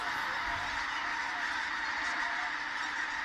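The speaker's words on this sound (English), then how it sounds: "It's a species that puts on one of nature's true spectacles during the winter, the pink-footed goose." Pink-footed geese call continuously from a large winter flock at a wetland reserve, a dense overlapping chorus of honks with no clear gaps.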